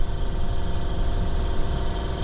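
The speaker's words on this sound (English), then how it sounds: "I'll start it up and let it warm up." A 2022 Ducati Hypermotard 950 motorcycle engine idling while it warms up after starting, giving a loud, steady rumbling drone with fast pulsing throb, close by, with no talking.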